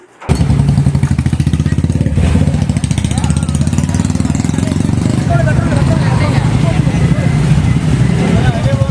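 Loud, continuous engine roar from motorcycles in a bike rally on a road in Kerala, with rumbling revs and passing machines heard close by throughout.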